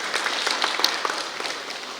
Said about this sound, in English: A very, very big round of applause for all the parents.